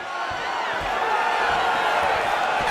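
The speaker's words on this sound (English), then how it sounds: "they can take in the applause because they deserve it after that grappling exchange" In a UFC 5 video game fight, a dense crowd roars and applauds steadily, the cheering sustained and loud throughout without a break.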